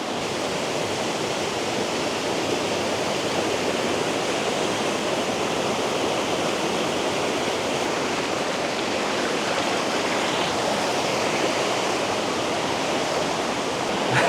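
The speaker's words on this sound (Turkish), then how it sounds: "kuş sesleri ve şelalenin sesleri" A waterfall in Thailand roars steadily for the whole stretch, a dense, even rush of falling water that holds constant without breaks and with no talk over it.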